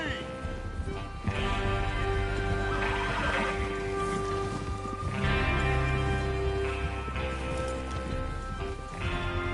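Horses whinny loudly several times while hooves clop along underneath, set against a busy outdoor background, in Red Dead Redemption 2.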